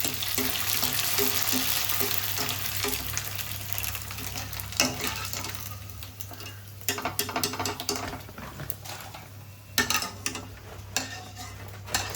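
Amaranth greens and vadiyalu fry in a pan, a steady sizzle under intermittent clinks and scrapes of utensils against the pan, close and moderately loud throughout.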